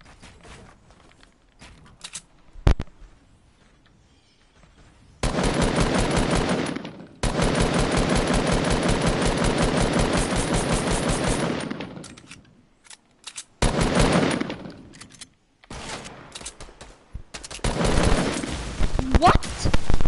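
Rapid automatic gunfire in a competitive shooter video game, long loud bursts with pauses and scattered single shots, with players talking between and over the firing.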